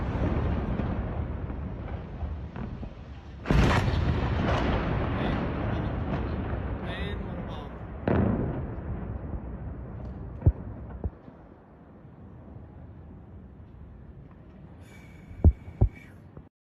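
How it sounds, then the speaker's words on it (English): Heavy bombardment from airstrikes on the port of Latakia, Syria, a naval base area: deep, sustained low rumbling with two loud booming surges a few seconds apart, then a quieter stretch broken by sharp, distant cracks. "looks like heavy bombardment by the Israelis over here on the port of Latakia"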